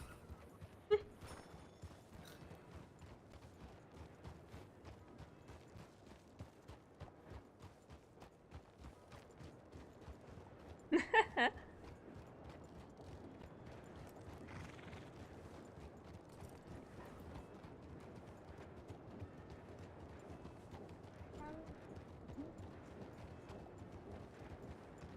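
In a video game, a horse's hooves clip-clop in a steady, quiet rhythm throughout, with a brief louder burst of sound partway through.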